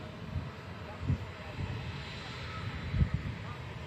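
A Pegasus airliner rotates on takeoff from runway 23 left, its jet engines a steady low rumble at a distance, with wind buffeting the microphone and a few faint swells in the roar.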